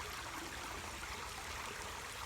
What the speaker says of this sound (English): So we'll put some water in there, swirl this around.